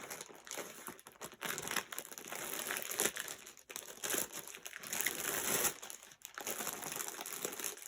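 Close, continuous crinkling and rustling of a plastic bag as items are handled and pulled out, loud and uneven with brief pauses.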